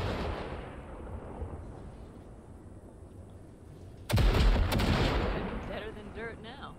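Heavy ship cannons in Cyberpunk 2077 pound away at floating wrecks, opening with a dense rumbling barrage and then a sharp, loud burst of blasts and explosions about two-thirds of the way through.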